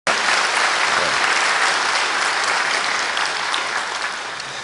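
A church congregation at a Sunday worship service claps to welcome visiting families, a dense, steady burst of applause that starts at once and slowly eases in volume.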